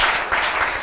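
Audience applause for a cyclist at the finale of a cyclocross race, a dense steady wash of many hands clapping close by, with no gaps across the short stretch.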